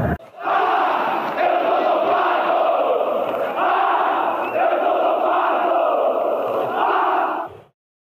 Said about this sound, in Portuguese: vai a loucura, o torcedor chavante do Estádio Olímpico em Porto Alegre